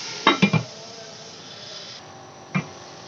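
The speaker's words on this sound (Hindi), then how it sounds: "ये मैंने ढकना उठाया" A cooking pot lid is lifted off a simmering pot of aloo matar mixed vegetables: a quick cluster of three metallic clinks, then a single softer clink a couple of seconds later, close by over faint kitchen hiss.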